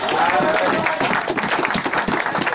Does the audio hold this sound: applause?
yes